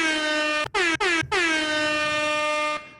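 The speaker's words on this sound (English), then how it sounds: "The next one's going to be air horn." A loud air horn sound effect played from a podcast studio soundboard blares in two short bursts and then one long sustained blast that cuts off after about three seconds.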